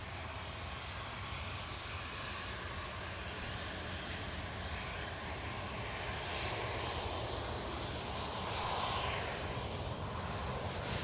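Airliner landing at Edinburgh Airport, a steady broad engine roar heard from close by, swelling slightly toward the end with no talk over it.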